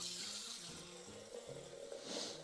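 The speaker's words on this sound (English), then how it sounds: "I might actually add some more water." Tap water runs into a pot of soaking beans, a continuous hissing pour with shifting tone as the level rises, close and fairly quiet, heard alone.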